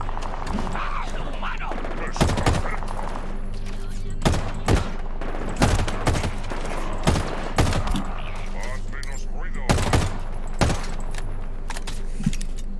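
Sharp gunshots crack out in irregular bursts, some rapid, over a steady rumbling background in Halo Infinite, with occasional speech.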